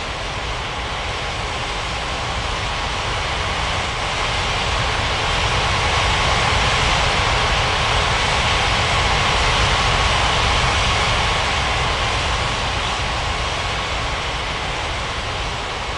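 Jet airliner engines rumble steadily while taxiing to the runway in the Unmatched Air Traffic Control mobile game, a continuous broadband roar with an even, sustained level throughout.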